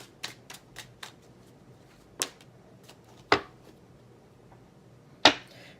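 Tarot cards in a live reading are shuffled and drawn, giving a few crisp, close card snaps and slaps spaced apart over a quiet background, with no talking.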